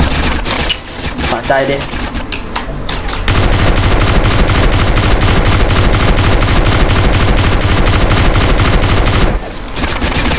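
Constant rapid machine-gun fire blasts through a GTA San Andreas street fight against a gang, loud and unbroken for most of the stretch, with someone talking over the opening shots.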